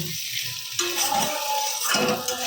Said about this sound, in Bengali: এবারে মশলাটা ভালো করে কষিয়ে নিই